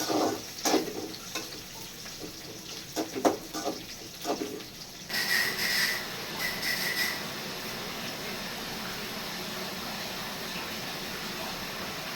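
Spices, onion and curry leaves fry in a pan for a Tamil goat intestine curry, a steady broadband sizzle that starts with a louder burst and then holds a continuous hiss, with earlier scattered clatter and stirring.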